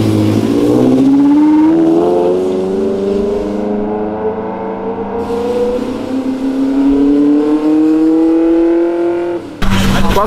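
A car accelerates hard and revs loudly for about ten seconds, its engine note climbing steadily in pitch while staying close and dominant, before cutting off abruptly at the end.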